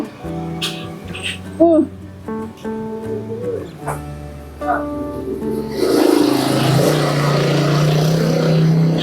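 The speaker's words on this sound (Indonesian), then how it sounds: "Barusan ada yang lewat motor." A motorcycle roars past a street food stall selling fried rice, its broadband engine noise swelling in the last few seconds and staying loud, while someone talks over the earlier part.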